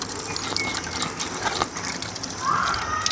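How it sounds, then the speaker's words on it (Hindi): Water gushes through a pipe into a newly built spring outlet near a Shiva temple in the hills, a steady rushing, splashing flow heard close up with no talking. "अब आने लगी है पानी की धारा, पानी पूरा आ रहा है इस नली के थ्रू।"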